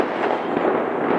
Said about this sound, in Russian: народ уже начал вовсю пускать салюты